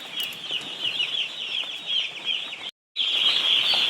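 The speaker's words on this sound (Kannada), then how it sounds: "ನೋಡಿ. ನಿನ್ನೆ ರಾತ್ರಿ ಬಂದ ಮರಿಗಳು." Newly arrived chicks in a poultry farm peep in a dense, continuous chorus of high chirps, steady and close throughout, with a brief silent break near the end.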